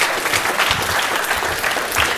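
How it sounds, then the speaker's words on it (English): Steady, dense applause from an audience at a live event, loud and continuous throughout with no speech over it. "Give him a round of applause,"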